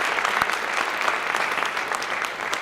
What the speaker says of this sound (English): a nice round of applause for all of our PTA Achievement Award winners this evening